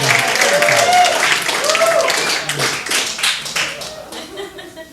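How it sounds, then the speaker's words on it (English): A comedy club audience at the Ice House Annex in Pasadena breaks into loud, dense applause with whoops and cheering voices mixed in. The applause is sustained, then thins and fades toward the end. "Let's give Erica a big round of applause"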